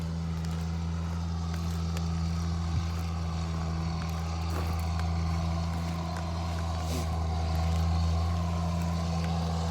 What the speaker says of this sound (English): I shall wait for the tractor to go past because he might actually drown us out